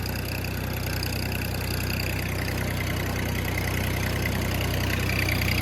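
A tractor engine idles steadily with a low, throbbing chug and rattle, continuous and close throughout, with no voices.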